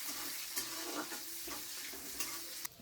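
Onion and garlic fry in oil in a wok with a continuous close sizzle. Repeated scraping stirs cut through it, and a sharper clank comes just before the end.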